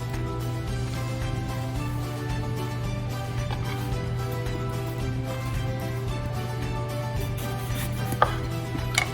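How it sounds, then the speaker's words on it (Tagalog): Eggplant being sliced with a knife, a steady run of cutting and chopping sounds over a constant low background hum, with a couple of sharper knocks near the end; no speech. "i-slice natin yung ano ng eggplant"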